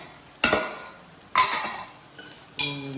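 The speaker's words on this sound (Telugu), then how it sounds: "మనం మూత తీసుకుందాం." A metal lid is lifted off a cooking pot and pans clatter in a home kitchen while an egg fry with garlic chili and onions cooks. Three sharp, close clanks are separated by brief pauses.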